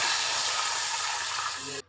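Hot tempering of cumin, asafoetida, green chilli and curry leaves poured into peanut kadhi, giving a loud, continuous close sizzling hiss that cuts off abruptly at the end.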